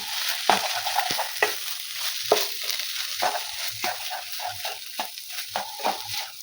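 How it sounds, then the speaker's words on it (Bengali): A spoon stirs and scrapes a coriander leaf, dried fenugreek and garam masala mixture in a hot pan, with a quick run of repeated scraping strokes over a soft sizzle, close and steady. "দিয়ে আমি সবগুলোকে ভালো করে নেড়ে নেবো।"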